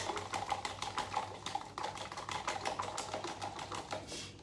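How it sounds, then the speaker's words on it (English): A whisk beating an egg in a bowl, quick rapid clicking strokes in a steady rhythm, close and fairly faint, with no talking. "So I'm gonna whisk the egg."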